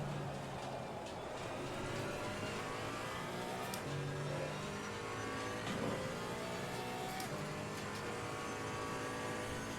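GT4 race cars in the racing game Assetto Corsa Competizione, engines droning and revving steadily with gear changes throughout, a dense continuous roar of nearby cars with no talking.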